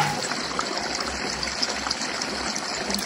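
Water poured in a steady trickle into a mixer jar of semolina, a continuous close splashing stream with no talking over it.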